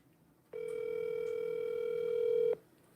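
A telephone tone sounds as one steady, unbroken electronic note that lasts about two seconds, fairly clear against quiet background noise, with no talking.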